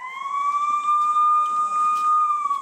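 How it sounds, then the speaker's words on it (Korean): A steady, high-pitched siren wails continuously at a military firing range during recruit marksmanship training, loud and sustained, with a slight wavering in pitch. "사이렌이 울리고"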